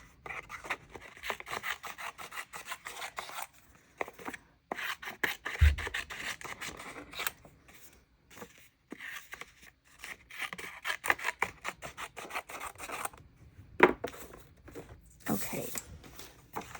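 Scissors snip and rub through paper while trimming an oversized piece for a Dutch door bullet journal spread, with irregular close crisp cuts and rustling scattered across the clip, no talking.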